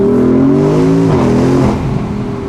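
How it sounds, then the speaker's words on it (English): A loud, close engine roar with a strong, steady tone that shifts pitch partway through, as a 2020 Porsche Cayenne Coupe Turbo SUV accelerates hard. "It just hauls when you hit the gas."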